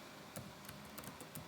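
Sparse, crisp key taps from a computer keyboard click at an uneven pace, roughly five distinct strikes, quiet and close against a low steady hiss with no voices.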